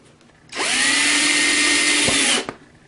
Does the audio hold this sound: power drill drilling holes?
yes